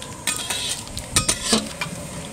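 Spices tempering in hot oil for a village-style magur fish curry: a crackling sizzle runs throughout, broken by a few sharp spatters and spoon-against-pan scrapes, close and busy.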